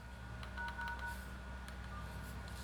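Large-button Ginzzu MB505 phone keypad giving short dialing beeps as numbers are pressed, a few quick tones over a low steady background hum, fairly faint.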